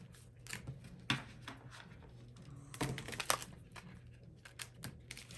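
A tarot card deck being shuffled by hand, with a string of soft riffling and slapping bursts, a few louder card snaps near the start and middle, close and fairly quiet with no talking.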